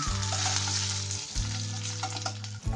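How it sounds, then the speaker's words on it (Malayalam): Mustard seeds, fenugreek and cut chilli splutter in hot oil for a winter melon pulissery, a close, continuous sizzle with scattered crackling pops and a low steady hum beneath. "ഈ പുളിശ്ശേരിക്ക് കടുക് പൊട്ടിക്കുമ്പോൾ ഇങ്ങനെ വേണം കടുക് പൊട്ടിക്കാൻ."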